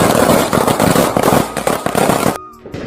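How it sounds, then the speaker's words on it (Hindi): Firecrackers burst in a cartoon Diwali scene in a forest, a loud rapid string of crackling pops that runs continuously, then cuts to a brief faint ringing tail. "तो टुनी अब पटाखे फोड़ने चली जाती है और पटाखे फोड़ती है।"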